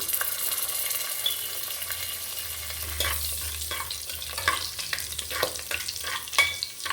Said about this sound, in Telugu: ఇప్పుడు ఎండుమిర్చి వేగాయి ఆవాలు వేసుకుందాం ఒక హాఫ్ స్పూను జీలకర్ర వేసుకుందాం